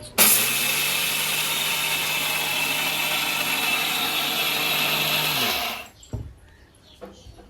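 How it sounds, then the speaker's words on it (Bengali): A kitchen blender grinds puffed rice and fried rice in one loud, steady whirring burst of about five and a half seconds, then cuts off, followed by a few light clatters. "এখন খই আর চাল ভাজা ব্লেন্ড করে নিব।"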